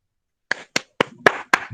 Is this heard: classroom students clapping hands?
yes